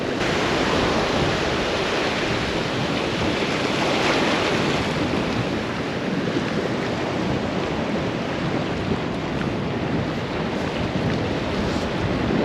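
Large sets of ocean waves wash onto rocks along the shore, a dense, unbroken roar of surf mixed with strong wind buffeting, loud and sustained without speech.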